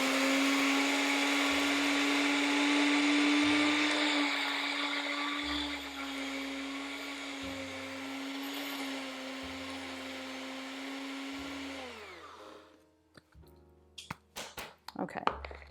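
A blender lightly grinding oats into flour runs as a loud, steady motor whine for about twelve seconds, then winds down and stops, followed by a few clattering knocks.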